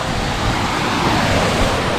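Rushing water of Talusob Falls in Magsaysay, Davao, roars as a loud, steady broadband wash that fills the whole moment without a break, with no voices.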